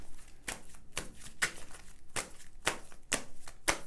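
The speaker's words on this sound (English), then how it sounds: "so now I'm going to shuffle these cards" A deck of cards is shuffled in a tarot-style reading, a steady series of sharp riffling snaps repeating about every half second, close and moderately loud with no talking.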